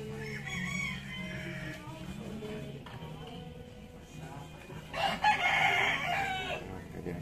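A rooster crows loudly and nearby in a long, strained cock-a-doodle-doo near the end, preceded by softer clucking and farmyard chatter from chickens.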